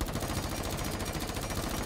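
An MP5 fires in Rainbow Six Siege, a fast continuous rattle of automatic shots in a tight rhythmic stream, close and steady throughout.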